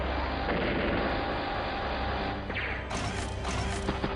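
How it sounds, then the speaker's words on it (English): Artillery fire in the Advance Wars: Days of Ruin strategy game, a dense, loud blast-and-rumble effect running through the whole moment with a sharper burst of impacts near the end. "Gets a nice strike there with the artillery."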